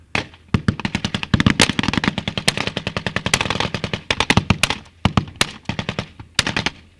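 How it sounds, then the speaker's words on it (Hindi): Rapid machine-gun bursts crack near and loud at a Syrian army post, with sharp single reports and heavier thumps of artillery fire scattered among the rattling volleys, no voices. "सिर्फ यहाँ बंदूकें बोल रही हैं, तोप गरज रही हैं"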